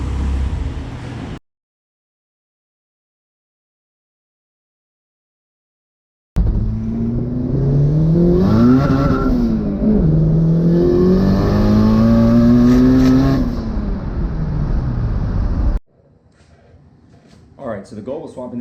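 A turbocharged Honda CRX Si revs hard on a chassis dyno, the engine note climbing and falling through several loud sweeping pulls over about nine seconds, with a quiet gap before and muffled shop noise after.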